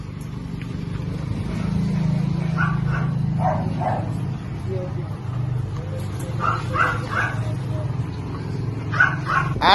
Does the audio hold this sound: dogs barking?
yes